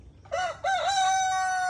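A very old black Australorp chicken on a farm gives a short two-part crow, close and loud, the second call drawn out and steady to the end.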